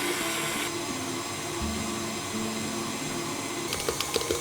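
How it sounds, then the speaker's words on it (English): A stand mixer with a dough hook kneads bao bun dough, giving a steady loud motor whir that shifts in pitch as the load changes, with a few knocks near the end. "Stir the liquid mixture into the dry mixture and knead together with a dough hook."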